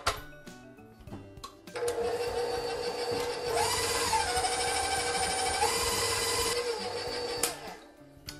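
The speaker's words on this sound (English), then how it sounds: "we're just going to mix this up until it's nice and smooth" Electric hand mixer beating pumpkin cheesecake batter for a caramel pumpkin cheesecake, a steady dense whirring drone starting after a couple of seconds and running about six seconds, moderately loud and close, with no talk.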